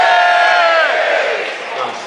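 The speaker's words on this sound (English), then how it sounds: "Give us a cheer for the BBC." A crowd at the Autosport International 2012 show cheers and shouts loudly for a couple of seconds, the roar fading slightly at the end.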